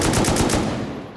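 A light machine gun fires in the survival game Rust, a fast unbroken burst of loud, close gunshots that cuts off after about a second.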